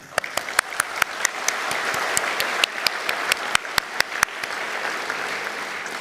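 Audience at a summer university conferring ceremony applauding the ceremony staff, sustained crowd clapping with sharp individual claps popping out in front, steady and fairly close before tapering off.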